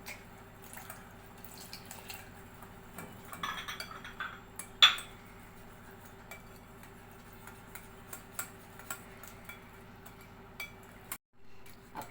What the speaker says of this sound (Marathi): आता याच्यामध्ये आपण हे ताक घालून गुठळ्यांना न होतील असं आपण हे पीठ मिक्स करून घेणार